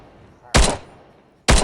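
Video game gunfire in two loud, sharp bursts about a second apart, each a dense broadband blast with a short decaying tail, no voices between them.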